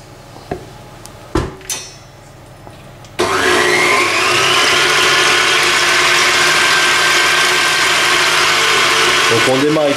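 An electric mixer whips 300 g of cream with 30 g of sugar into chantilly, starting after a few clunks and then whirring loudly and steadily, its pitch rising slightly as the speed increases.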